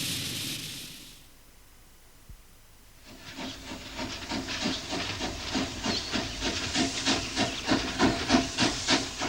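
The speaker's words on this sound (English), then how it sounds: "The sight and sound of a steam train can arouse strong emotions" A loud burst of steam hisses from a steam locomotive in Australia, then after a short lull the engine chuffs in a steady, quickening rhythm that grows louder.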